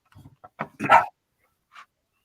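A dog gives a few short, fairly quiet barks and whines close by, with a faint whimper trailing after a brief pause.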